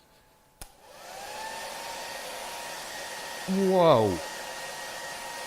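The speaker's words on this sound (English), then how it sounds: "So I have my trusty hairdryer here to really warm it up for us." A hair dryer blows steadily at close range after switching on with a click, its even airy roar running throughout while a voice gives a brief exclamation over it.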